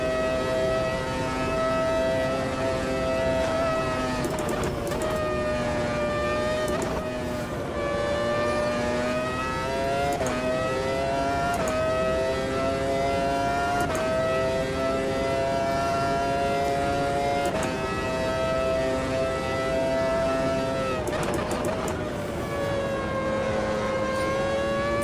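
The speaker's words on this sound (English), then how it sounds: "That sort of nice little warble sound there as you're going through the revs." Racing car engine in the Automobilista 2 sim racing game, a loud continuous tone that warbles and rises through the revs, dips briefly at each gear change, then climbs again, with no talking.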